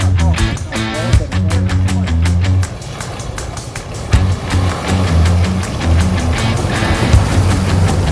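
Car driving through water on a dangerous road to test the depth, a rough engine rumble mixed with repeated splashing and sloshing, loud and close, with no voices.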